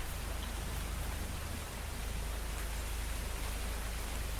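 Blood rain falls in the horror video game A Path in the Woods, a dense, unbroken hiss of rainfall that stays even and loud throughout with no other sounds.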